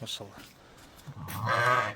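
A lamb, a young ram of an elite yellow sheep breed, bleats in short, nasal cries at the start and again near the end. Someone speaks briefly over the calls.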